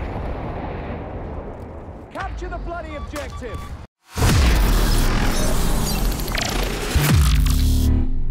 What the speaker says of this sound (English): JB-2 airstrike right away.